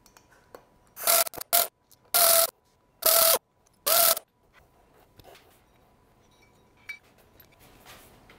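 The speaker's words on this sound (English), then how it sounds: "the first thing I'm going to do is take off the fan. These are 7/16 bolts." A ratchet works the 7/16 fan bolts loose on a classic Mini, heard as five loud, separate bursts of clicking close by, then quiet shop noise.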